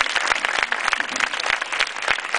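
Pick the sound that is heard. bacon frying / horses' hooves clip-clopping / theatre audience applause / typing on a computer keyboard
theatre audience applause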